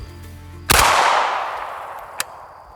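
An AK rifle with tree seeds loaded down the barrel fires one loud close shot that decays slowly, followed by a brief fainter crack about a second and a half later.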